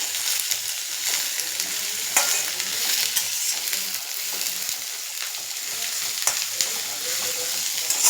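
Onions frying with green chillies in a pan for a restaurant-style chicken fry, a steady close sizzle broken by scraping stirs throughout, with no talking.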